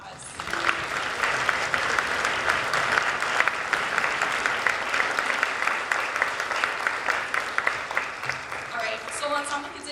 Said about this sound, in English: Can we please give these students a round of applause?